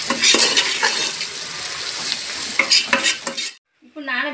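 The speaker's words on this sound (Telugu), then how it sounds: "బిర్యానీ మసాలా వేసిన తర్వాత ఇంకోసారి బాగా కలిపేసుకుందాం." Vegetable biryani with biryani masala stirred in a hot sizzling pan, a loud continuous frying hiss with scraping spoon strokes, ending in a short pause and a faint clatter.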